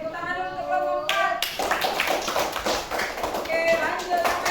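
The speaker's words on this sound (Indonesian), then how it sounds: "Oke, tepuk tangan dulu untuk kelompok 4." A class claps for a student group in a coding and artificial intelligence lesson, brisk close-range clapping that breaks out after a voice speaks, with talking heard over it toward the end.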